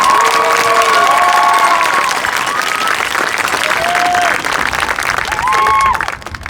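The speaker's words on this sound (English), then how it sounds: "Give us a big round of applause." A community performance audience gives a big round of applause, a loud, dense wash of clapping with cheers and children's shouts over it, lasting throughout before tapering off at the end.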